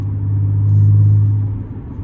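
A modified supercharged Audi S4 pulls hard at full throttle, its loud, deep engine and exhaust rumble swelling to a sustained drone before easing off, heard close up with no talk.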